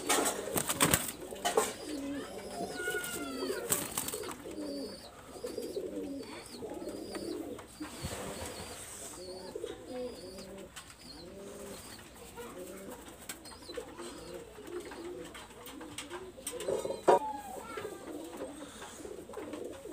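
Pakistani highflyer pigeons coo steadily in low, rolling bursts, several birds close by with a few brighter calls and occasional wing flaps, no talking.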